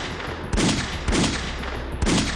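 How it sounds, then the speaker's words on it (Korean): Three sharp gunshots crack out in quick succession, roughly half a second apart, from the 1909 shooting at Harbin station. Each loud report rings out briefly over a dense, noisy background. "1909년 10월 26일 하얼빈 역에서 울린 총성 6발."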